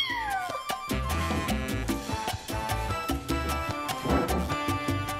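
A cute cat meows, a drawn-out falling cry near the start, over loud rhythmic music with a steady beat that runs throughout.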